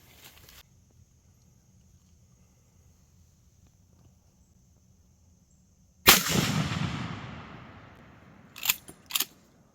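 A single loud rifle shot at a standard 55-yard whitetail range in South Mississippi, a sharp crack followed by a long rolling decay, with two quick sharp clicks near the end after a mostly quiet lead-in.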